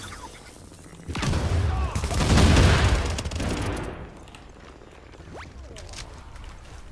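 A loud sustained burst of automatic gunfire from The Division video game, roughly two seconds of rapid shots swelling in the middle then fading into quieter ambient rumble and a few distant pops.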